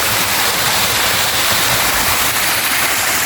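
A high waterfall pours in a dense, loud, steady hiss of falling water, continuous and close, with nothing else audible.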